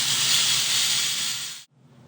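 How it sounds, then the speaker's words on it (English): A Silver Dragon jewelry steam cleaner blasts very hot, high-pressure steam in a loud, steady hiss that stops abruptly, leaving near-silence at the end. "You're going to get a lot of very hot, very powerful steam out of the Silver Dragon."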